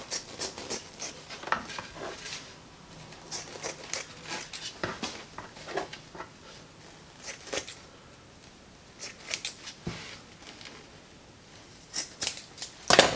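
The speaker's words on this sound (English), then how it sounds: "cut this material off" Scissors snip off excess material from a homemade playing card mat, a series of quiet, irregular cutting and rubbing strokes up close, ending with a louder crinkle.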